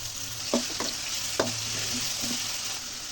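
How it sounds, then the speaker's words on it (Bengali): Dried fish (shutki) frying in hot oil with onion and garlic in a pan on a stove, a steady close sizzle broken by a few sharp scraping stirs. "শুটকি ভেজে নেব"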